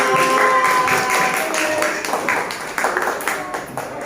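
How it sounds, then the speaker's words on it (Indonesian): Students in a classroom clapping their hands, a close burst of rapid, fairly loud claps that thins out toward the end, with some voices in the room. "Oke, balik tepuk tangan untuk masyarakat."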